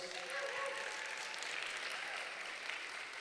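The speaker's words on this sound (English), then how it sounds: "please give your moderator a big round of applause" Audience applause for the moderator at an agri-business investment forum in Jamaica, a dense, steady wash of many hands clapping that fills the whole stretch at even loudness.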